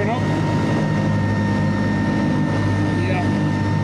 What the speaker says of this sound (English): you can hear the revs going up.